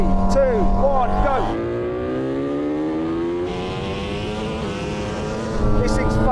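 A Lamborghini Huracan and a Red Bull MotoGP bike accelerate hard from a rolling start in third gear, a loud rising engine drone with climbing pitch sweeps, brief speech at the start and a strong engine roar throughout.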